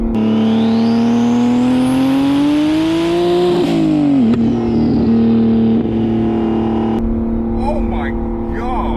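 A single-turbo N54 BMW 335i making roughly 715 whp pulls at half throttle, its loud engine note rising steadily, dipping at a shift, then climbing again before easing off, with a faint voice near the end.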